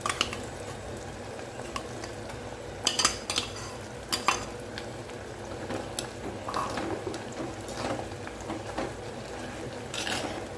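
Ground masala paste for a horse gram and fenugreek thokku frying in a pan, a low bubbling sizzle broken by several sharp metallic scrapes and clinks of a spoon against the pan as it is stirred.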